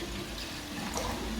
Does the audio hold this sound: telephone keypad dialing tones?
no